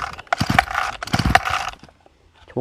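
Someone pull-starts a hard-starting grass trimmer engine: two quick rattling, ratcheting yanks of the starter cord, close by. The engine doesn't catch, and quiet follows with a faint clunk at the end.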